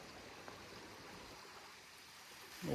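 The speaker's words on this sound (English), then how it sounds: "Here's our creek. It comes down through the front yard here." A creek running through a front yard, a steady soft wash of flowing water heard from nearby, even and unbroken.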